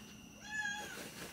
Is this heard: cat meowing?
yes